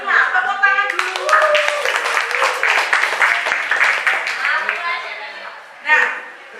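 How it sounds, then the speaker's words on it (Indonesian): A classroom group claps hands after scores are announced, a dense burst of clapping lasting several seconds that fades out, with talk mixed in and a short final flurry near the end. "Tepuk tangan dulu."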